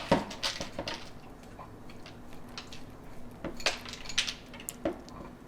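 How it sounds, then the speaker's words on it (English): Soaked fenugreek seeds spill into a colander, giving faint, scattered rattles and light clinks of seeds and metal, quiet and close, with gaps between bursts. "and then we'll just pour this in."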